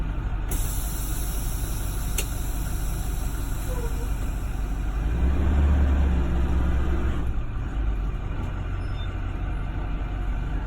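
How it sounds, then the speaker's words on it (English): A school bus rolling slowly at about 5 mph as its air service brake is applied during a brake test, with a steady low engine rumble that swells briefly in the middle before easing. "When I apply my service brake, it should not move to the left or to the right."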